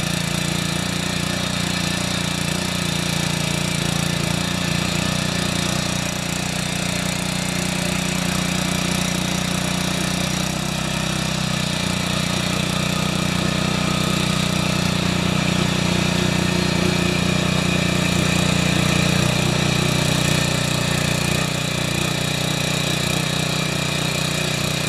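A Stalwart rotary tiller's small engine runs just after being repaired, a loud, close, unbroken mid-pitched drone that holds steady the whole time with no talking.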